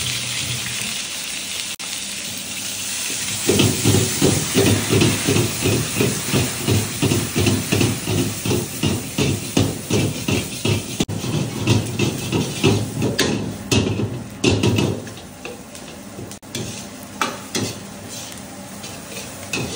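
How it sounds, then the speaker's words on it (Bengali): Vegetables (beans, carrot, capsicum, peas and onion) hitting a hot pan with fried egg for noodles burst into loud, continuous sizzling, with rapid rhythmic scraping and tossing strokes that ease off toward the end. "এবার ভেজ দিয়ে দেবো সবজিটা। বিনস আছে, গাজর আছে, ক্যাপসিকাম আছে, মটরশুঁটি আছে, পেঁয়াজ আছে।"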